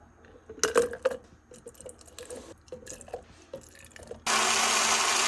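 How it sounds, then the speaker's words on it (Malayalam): Soaked cashew nuts with water in a mixer grinder: scattered wet drips, sloshes and squishes as the jar is filled, then a loud, steady motor roar kicks in for the final second. "അത് നമുക്കൊന്ന് മിക്സിയിലിട്ടിട്ടൊന്ന് ബ്ലെൻഡ് ചെയ്തെടുക്കണം"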